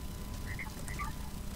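Frogs croaking in a snowy-edged biome of Minecraft's Hexxit modpack: a few faint, short chirping croaks over a steady low background rumble, with no one speaking.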